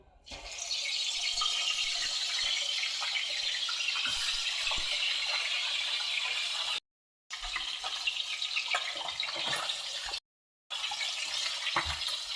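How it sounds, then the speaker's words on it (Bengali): Large fish heads fry in hot oil with a continuous bright sizzle and scattered crackles, interrupted twice by brief gaps. "গরম হয়ে গেছে এবার তেলের মধ্যে আমি এই মাথাগুলোকে ভেজে নেবো"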